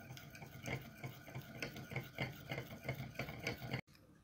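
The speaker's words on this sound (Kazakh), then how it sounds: "Жақсылап араластыру керек желатинді" Gelatin dissolved in warm water being stirred in a bowl, a steady rhythmic run of soft scraping strokes, close and fairly quiet, that stops abruptly near the end.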